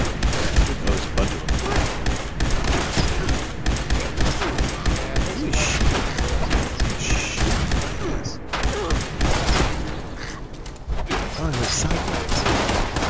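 Rapid video game gunfire rattles through the whole stretch, a dense fusillade of shots with short lulls, while players talk over it.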